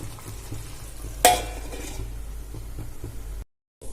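Marinated chicken with spices fries in a pan with a soft, continuous sizzle and stirring scrapes. A sharp metallic clatter of cookware cuts in early, and the sound cuts to silence briefly at the end.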